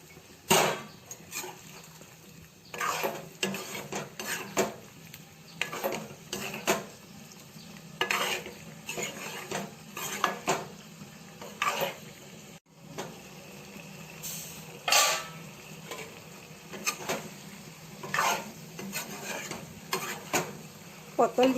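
Pointed gourd curry with garam masala sizzles in a pan while a spoon scrapes and clanks against the metal in repeated bursts of stirring, close and moderately loud.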